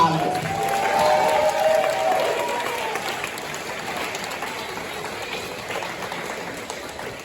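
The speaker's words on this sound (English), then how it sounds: "Clap it up for those scholars." Audience applause fills a fifth-grade graduation ceremony, a dense, steady wash of many hands clapping that swells early and then tapers slightly. A voice is briefly heard near the start over the clapping.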